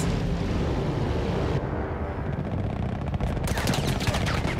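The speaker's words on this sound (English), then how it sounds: "Sniping these guys midair with this artillery gun" An artillery gun firing at aircraft in the Battlefield 1 video game, heavy gunfire and rolling blasts over a constant battlefield roar, with a sharp rapid burst of shots toward the end.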